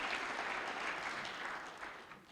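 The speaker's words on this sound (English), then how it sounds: "Let's give this man an applause." Faint, steady applause from a modest audience at a Wells College anniversary panel discussion, soft and continuous for a couple of seconds before thinning out.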